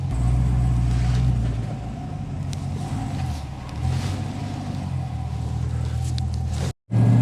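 Car driving on a road during a first test drive while engine coolant temperature is monitored, with steady low engine and road rumble throughout and a brief dropout near the end.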